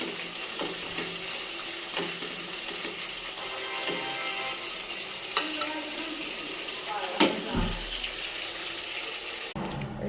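Food frying in a small amount of oil in a home kitchen, a steady close sizzle with occasional stirring clanks and knocks.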